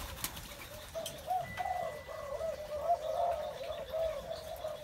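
A turtle dove (cu gáy) pecking at bread gives soft, continuous cooing-like bird calls with faint wing and pecking sounds, steady and fairly close throughout.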